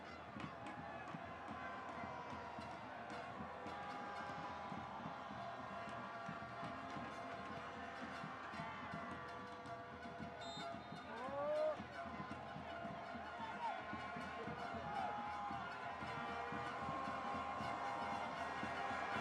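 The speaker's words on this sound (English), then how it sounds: "Crowd just raising their voices." Football stadium crowd at a World Cup qualifier between Mauritius and Mozambique, a steady roar of many voices with a brief swell of cheering partway through, under continuous commentary.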